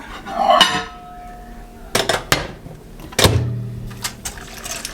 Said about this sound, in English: we're going to take this out and stir it